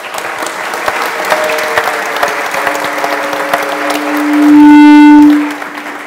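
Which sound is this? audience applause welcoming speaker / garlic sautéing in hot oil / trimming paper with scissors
audience applause welcoming speaker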